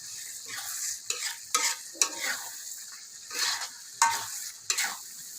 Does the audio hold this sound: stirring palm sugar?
yes